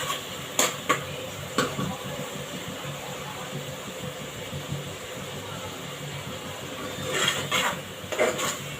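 Onions sauté in a pan with a low, soft sizzle, broken by sharp clinks of a spoon or spatula against the pan at the start and a cluster of scraping stirs toward the end.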